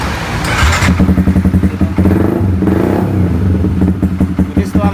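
Motorcycle engine idling close by with a rough, pulsing putter that revs briefly and then cuts off near the end, with a voice speaking over it.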